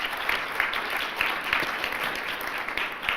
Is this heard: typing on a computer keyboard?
no